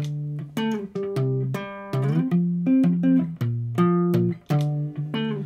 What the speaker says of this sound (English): Maybe I just want to break that down into power chords